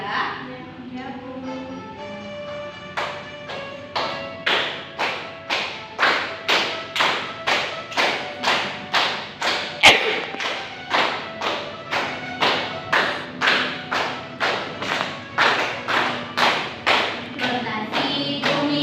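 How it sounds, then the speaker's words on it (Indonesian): A classroom of students stand and clap together in a steady rhythmic beat of sharp, loud claps, with a brief pause partway through before the clapping resumes alongside faint voices. "Oke, kita tepuk bersama-sama ya."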